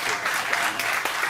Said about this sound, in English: give yourselves a round of applause for being such a good crowd tonight.